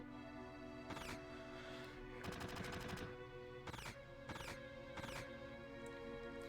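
Barrett's gunfire in Final Fantasy VII rings out as rapid machine-gun bursts and several sharp single shots over a steady game soundtrack, loud and punchy.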